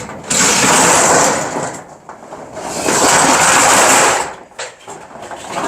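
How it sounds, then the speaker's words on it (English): A loud, steady motorized rumble and whine runs for a few seconds, dips briefly, then surges again, like a heavy garage bay door grinding open. "So let's go ahead and open the bay door."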